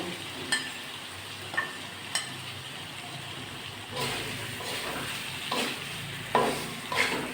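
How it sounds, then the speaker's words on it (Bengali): Pointed gourd with spice masala fries in a pan, giving a steady soft sizzle under intermittent spoon scrapes and taps, close by and without speech. "এবার আমি ভেজে রাখা পটলগুলো দিয়ে দিচ্ছি মশলার সাথে আর একটুখানি পটলটা কষিয়ে নেব"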